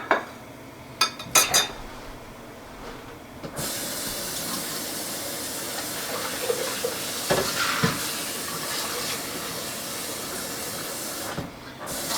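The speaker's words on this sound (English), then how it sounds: "We wash dishes as we go along." Kitchen sink dishwashing during pasta-sauce cooking: a steady hiss of running water fills most of the stretch, with a few sharp clinks and knocks of dishes near the start and occasional softer clatters later.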